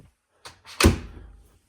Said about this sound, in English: Make sure it makes that clicking noise and then close your door